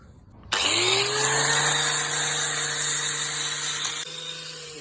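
A power drill whines up to speed and runs steadily for several seconds drilling a motorcycle clutch lever, its pitch rising as it starts and cutting off abruptly near the end.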